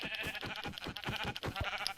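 Sheep bleating inside the Minecraft video game, a series of short, close, repeated bleats with a rhythmic pulse and no talking.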